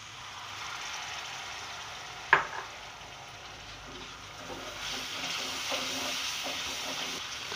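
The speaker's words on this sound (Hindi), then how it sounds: "पहले मैं इन मसालों को भूनूंगी अच्छी तरह से" Steady sizzling hiss of spices frying in oil in a pan, with a sharp clink near the start and light stirring scrapes later.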